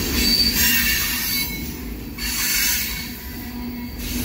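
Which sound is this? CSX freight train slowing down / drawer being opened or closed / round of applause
CSX freight train slowing down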